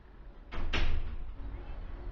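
A stairwell entrance door in an apartment building swinging shut nearby, two quick knocks of the latch and frame followed by a low lingering rumble.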